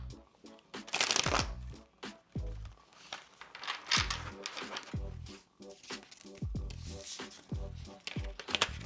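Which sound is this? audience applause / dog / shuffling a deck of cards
shuffling a deck of cards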